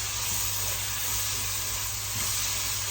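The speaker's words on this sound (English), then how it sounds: "just continue to saute" Pinakbet vegetables with tiny shrimp sautéing in a pot give a loud, steady broadband sizzle and hiss that continues unbroken throughout, with no voices.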